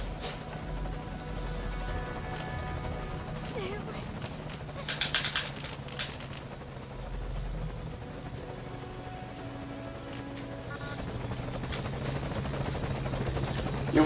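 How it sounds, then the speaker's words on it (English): A helicopter arrives in Metal Gear Solid V: Ground Zeroes, its steady rotor drone rising in volume over game ambience, with faint bird cooing and flapping around it. "Come on, chopper. There it is."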